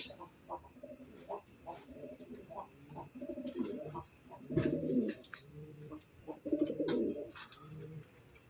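Pigeons coo softly and repeatedly nearby at night, low throaty calls overlapping in an irregular rhythm, with faint chirps in the background.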